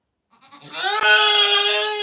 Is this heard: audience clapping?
no